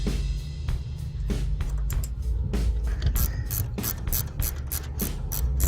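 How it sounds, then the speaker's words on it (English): A 3/8 wrench turns bolts on a Harley-Davidson floor board, making rapid repeated ratcheting clicks close up in short bursts over about six seconds, with no talking. "it takes a 3/8 wrench"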